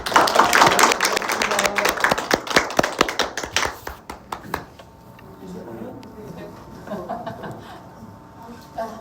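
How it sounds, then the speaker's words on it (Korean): Audience applause at a Korean public-sector union meeting, with dense clapping and some laughter that thins into scattered individual claps after about four seconds, followed by quieter murmuring voices. "도로공사 그 간부님들 다시 한번 박수 쳐주시고"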